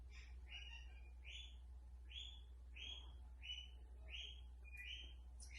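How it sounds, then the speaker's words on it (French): Birds chirp outside in a quiet room, a regular series of short bright calls repeating about twice a second throughout, faint but clear over a low steady hum. "Oh, les oiseaux comme d'habitude."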